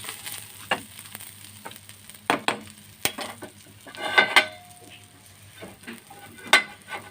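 Ponnaganti greens, fresh from a terrace garden, fry in a pan on the stove with soft, steady sizzling, broken by sharp scrapes and knocks of a spoon stirring against the pan, with no talk.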